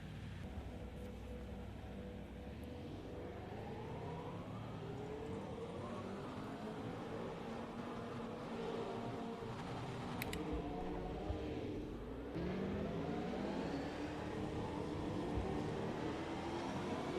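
Supercar engine in Assetto Corsa racing at Brands Hatch Indy, a fairly faint rumbling drone with rising and falling pitch sweeps as gears shift, running steadily with no voices.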